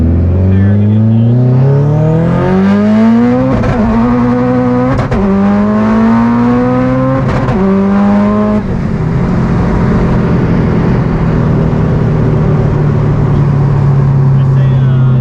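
A Subaru STI car accelerates hard and loudly through several gears, with a rising engine note that drops at each shift before it holds a high steady drone.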